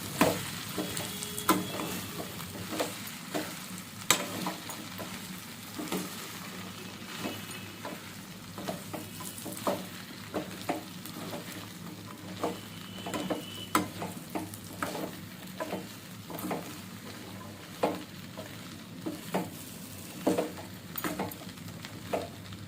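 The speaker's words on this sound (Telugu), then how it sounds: "బాగా నీట్గా కలిపేసేసుకోండి ఆయిల్ అంతా బెండకాయలకు పట్టేలాగా" Cut okra and onions fry in oil as a spoon stirs them again and again. A constant sizzle runs under frequent knocks and scrapes against the pan, recorded close with no talking.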